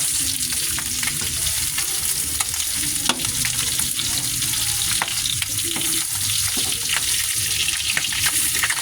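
Pork pieces frying in hot cooking oil for humba, a loud, steady crackling sizzle with occasional stirring clicks throughout, close and continuous with no talking.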